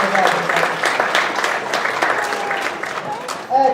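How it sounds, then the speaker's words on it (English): An audience at a university chemistry demonstration night breaks into sustained applause, dense and close, filling the whole stretch with a steady wash of clapping. "Let's give her a big round of applause."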